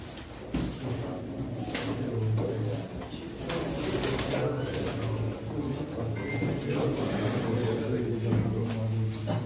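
Pigeons coo repeatedly at an outdoor pigeon auction while an auctioneer calls out prices over them. The low cooing phrases run steadily through the whole stretch, with scattered knocks and rustles.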